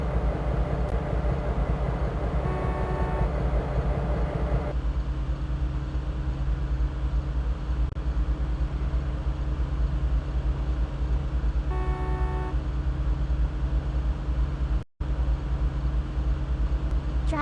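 Train driving in the Open Rails simulator: a steady low engine drone with a continuous rumbling hum, unchanging throughout, with a couple of faint short tonal toots and one abrupt brief dropout.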